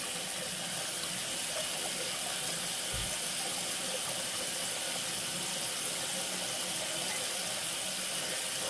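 Running water from a tap steadily rinses conditioner out of a Barbie doll's hair in a sink, a constant moderate splashing hiss with no talking.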